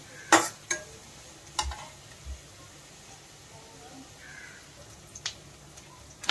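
Onion roasts lightly in a pan with a soft, faint sizzle under scattered clinks and scrapes of a utensil against the pan, several sharp knocks standing out.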